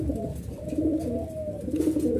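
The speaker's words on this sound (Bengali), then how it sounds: "আপনি স্ক্রিনে দেখতে পাচ্ছেন একজোড়া কালো সিরাজি কবুতর" Black Sirazi Lahori pigeons, a pair, coo steadily and close up in low, throaty rolling tones that run continuously with no talk over them.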